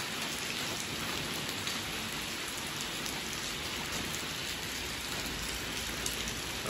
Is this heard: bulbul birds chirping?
no